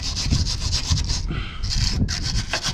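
A wire brush scrubs rust off the metal of an old horse box in fast, repeated abrasive strokes, harsh and close, with a brief change in tone midway.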